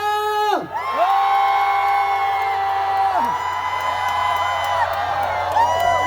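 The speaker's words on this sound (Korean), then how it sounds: "평택의 소리를 다시 한 번 들려주세요. 함성!" A large crowd at an outdoor concert stage in Pyeongtaek, in the rain, roars in repeated waves of shouting and high whoops, loud and continuous over a low steady hum.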